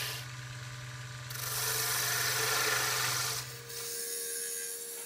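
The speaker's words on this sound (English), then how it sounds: "Beautiful curls off the lathe right now. I'm very happy with how this wood's cutting." A wood lathe turns a piece of Texas willow, harvested six months earlier, while the stem of a wooden mushroom is refined. A steady motor hum runs under a continuous close scraping and rasping of the tool cutting curls. The cutting swells louder midway, then eases back.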